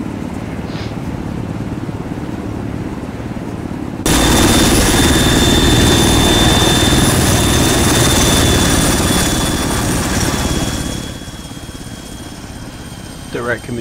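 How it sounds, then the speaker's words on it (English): A helicopter in the video game Arma 3 roars with a loud, steady rotor and engine drone that rises suddenly partway through and then fades, with players talking over it. "That's a pretty agile helicopter."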